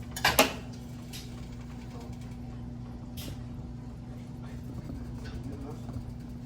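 A spatula or spoon clinks against a pan at the start while potato, onion and tomato are mixed, followed by faint scraping and light clatter over a low steady hum.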